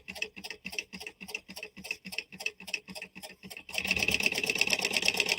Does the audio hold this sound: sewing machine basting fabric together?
yes